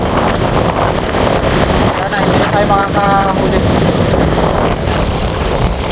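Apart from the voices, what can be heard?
strong wind over a lake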